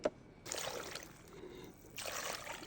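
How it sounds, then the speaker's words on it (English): Hot water poured into a rice cooker pot holding Cajun seasoning and heavy cream for Cajun pasta, heard as two separate bursts of splashing, trickling liquid, close by and fairly quiet. "2 cups of hot water in there."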